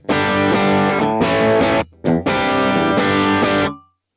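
Distorted electric guitar chords played through an amp with a thick, mid-heavy, slightly muffled tone, in several sustained bursts before ringing out.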